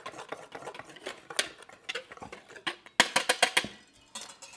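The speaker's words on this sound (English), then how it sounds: "Now these ingredients I'm just going to whisk together." A whisk stirs dry cookie mix of flour, baking soda and salt in a bowl, giving quick light clicks and scrapes that turn into a louder, faster run of taps near the end.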